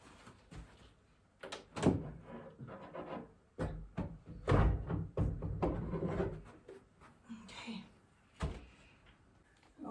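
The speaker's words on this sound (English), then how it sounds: "I have to take out the drawers as well" Wooden drawers pulled out of a cabinet during a home lamp and furniture installation, heard as several scraping slides and knocks at irregular intervals, fairly close, with some quieter handling noise between them.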